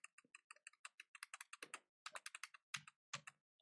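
A run of crisp close keystrokes on a computer keyboard while entering data into Tally Prime accounting software, rapid even taps with a few heavier thumps near the end, no voice.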